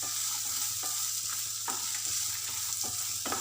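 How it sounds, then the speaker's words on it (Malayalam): Sliced onions stirred through hot oil in a pan, with a steady sizzle broken by repeated scraping strokes of a spoon at an even, unhurried rhythm, close and alone. "ഇനി വീണ്ടും നമ്മൾ നന്നായിട്ട് ഇത് ഓയിലായിട്ട് നന്നായിട്ട് മിക്സ് ചെയ്ത് കൊടുക്കാം."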